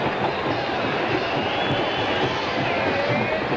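Stadium crowd of about 80,000 roars and cheers at the Gator Bowl during a college football game, West Virginia against Florida State, as a player struts; a dense, steady wash of noise fills the space without a break.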